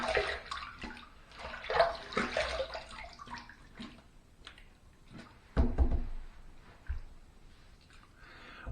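Water runs from a tap to rinse after a two-pass shave with a Parker 96R razor, splashing and gurgling unevenly at a fairly faint level, with occasional louder splashes.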